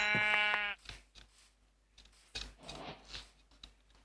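A white sheep in a blocky survival video game gives one clear, nasal bleat up close, followed by faint scattered clicks and shuffles of gameplay.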